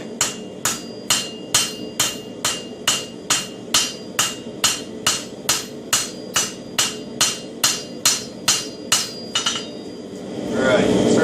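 Hammer blows forge the bevel of a steel herb chopper on an anvil, about twenty sharp, ringing strikes in a steady rhythm, close and loud, ending in a rushing whoosh.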